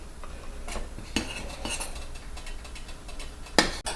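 Butter browning in a pan is stirred with a utensil, giving repeated metallic scrapes and clicks over a low, soft sizzle, with one sharper clink near the end.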